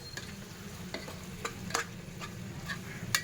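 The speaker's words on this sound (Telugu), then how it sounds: "ఇప్పుడు ఒకసారి మళ్ళీ బాగా కలుపుకోవాలి" Curry being stirred in a pan just after chili powder goes in, with repeated scraping strokes of a spoon at an uneven pace over a soft background sizzle.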